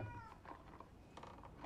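Stray cat meowing in Forspoken, a few soft, drawn-out meows over low, noisy game ambience, faint and without speech.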